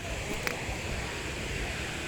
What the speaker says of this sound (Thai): นี่ครับบรรยากาศน้ำตก ดงพญาเย็นนะครับ